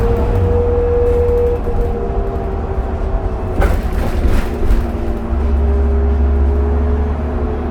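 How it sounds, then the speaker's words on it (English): Turbocharged diesel engine of a 2003 New Flyer D40LF city transit bus on a Calgary route, a steady low drone with a sustained whine from inside the bus, a brief burst of rattling midway and the engine swelling louder toward the end. "Your turbo sounds nice and healthy too"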